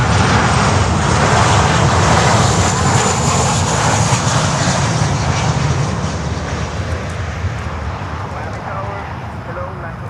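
An Airbus A320 passenger jet landing at Miami airport gives a loud, steady broadband engine roar that fades slightly toward the end, with faint talk underneath.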